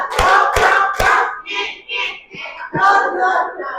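A group of adults in a teacher training session claps in a short rhythmic pattern, sharp claps landing close together, then voices chant and call out loosely over the end.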